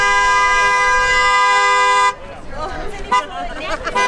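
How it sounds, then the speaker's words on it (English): A vehicle horn at Toronto Island Airport blares in one long, loud, steady honk that cuts off sharply halfway, after which a crowd of voices chatters in the background. "this horn is starting to drive me a little bit insane"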